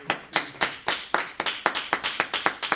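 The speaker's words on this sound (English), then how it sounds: "Let's give the Lord a hand clap of praise." Church congregation claps in praise, a dozen or so distinct hand claps in a steady, slightly uneven rhythm, moderately near and alone without talk.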